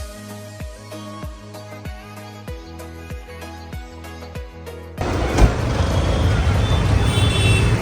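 A shared private car carrying passengers from Rajkot toward Junagadh: a steady, rhythmic pulsing beat gives way to a loud, continuous rush of road and cabin noise that fills the second half.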